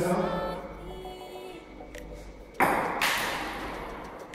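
A table tennis ball is smashed against an ASUS ZenFone 2 Laser phone, a single sharp impact crack in the middle of a quieter room tone, followed by a short second hit.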